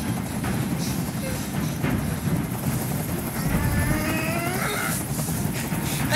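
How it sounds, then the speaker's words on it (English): A steady helicopter rotor drone in the video game Detroit: Become Human fills the scene with a low chopping rumble, while faint voices and other game sounds come and go over it. "I can't stand that noise anymore. Tell that helicopter to get out of here."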